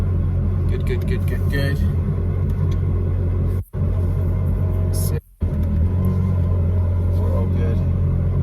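A repaired Ferrari pulls away slowly in first gear, giving a steady low engine rumble with brief dropouts, and someone talks over it.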